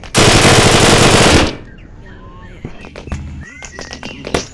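Rapid automatic gunfire from the video game Dude Theft Wars, a loud dense burst for about a second and a half, then sparse quieter game sounds and a few faint shots.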